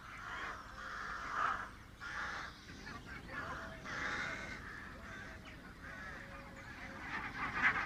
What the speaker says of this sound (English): The first geese depart for Iceland,